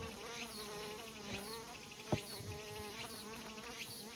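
A live bee buzzes continuously and close by, its wingbeat hum wavering in pitch, with one sharp tap partway through.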